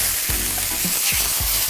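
A sous-vide steak sears in a pan of oil, giving a steady, close hiss of frying broken by a few low thumps and scrapes as it is shifted.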